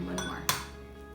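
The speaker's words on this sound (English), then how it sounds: "Now I'm going to just crack these eggs separately" Another egg tapped and cracked on a bowl rim for cheesecake filling: two quick, bright clinks, the second louder, close by over a low kitchen hum.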